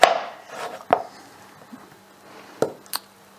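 A knife cuts courgette on a board with a few sharp, separate chops and pauses between them, close and clear, and no talking.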